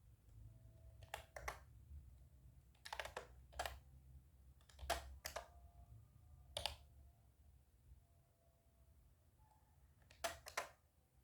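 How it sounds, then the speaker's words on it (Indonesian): Keystrokes on a computer keyboard while a cd command is typed, sparse quick clusters of crisp close clicks separated by pauses over a faint low hum, no voices. "Pertama-tama kita ketik perintah cd"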